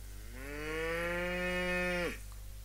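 A cow in the Rising World video game lets out one long, loud moo that holds steady and then drops off sharply, with quiet ambience around it and no talking.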